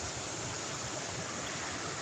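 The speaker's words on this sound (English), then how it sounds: "We're at Lower Falls Park in Rochester, New York, enjoying the waterfalls." Falling water at Lower Falls Park in Rochester, New York, a waterfall's steady broadband roar, dense and continuous at close range, with no talking.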